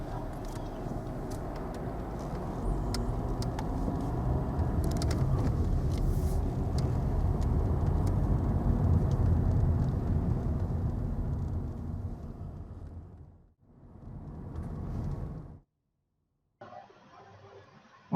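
A car drives along narrow country lanes toward a small hamlet near Porlock, its low road rumble and tyre noise steady and close, easing off near the end before a brief quieter stretch.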